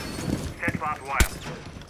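Sharp gunshot cracks in a tactical shooter siege match, a couple of distinct loud bangs spaced apart amid game sounds and chatter, with people talking over the action.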